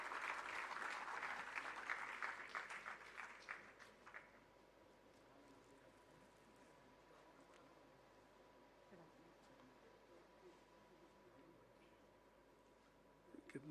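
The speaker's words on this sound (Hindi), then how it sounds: "तालियों के साथ हम स्वागत करेंगे स्वामी आत्मप्रियानंद जी का" An audience at the Mrityunjaya Sammelan inaugural function applauds to welcome a speaker, a dense burst of clapping for about four seconds that then fades, leaving quiet room tone.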